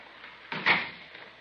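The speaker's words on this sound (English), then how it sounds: "Close the door." A door shuts nearby with a single muffled thump and brief rattle in a quiet room, heard alone.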